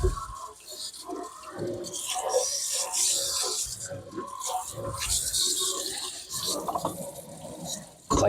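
Hot water running from a kitchen tap into a garbage disposal sink, a steady close splashing stream with gurgles and drips that continues for several seconds before briefly cutting off.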